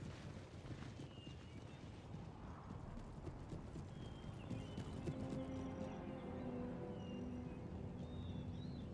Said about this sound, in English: the regiment of horse to advance into your range